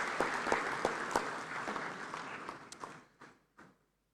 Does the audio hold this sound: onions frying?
no